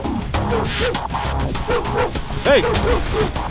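A dog barks and yips repeatedly in short, uneven bursts, close and loud over a busy background of a Hindi-dubbed action movie scene.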